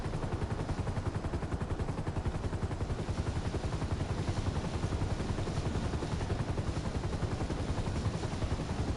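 A helicopter flying in the video game GTA V, its rotor chopping in a fast, steady rhythmic thump that stays constant and close throughout.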